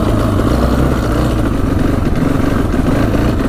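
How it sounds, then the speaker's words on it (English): A street legal dirt bike engine, a cheap $800 machine just repaired, idles steadily and loudly up close with a constant rumbling chug and no talk over it. "Oh, it's staying idling at least."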